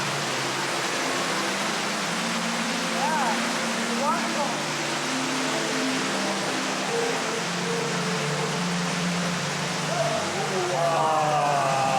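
Ruby Falls, the underground waterfall in a cave at Chattanooga, Tennessee, roars as a steady dense rush of falling water, with people talking faintly beneath it throughout.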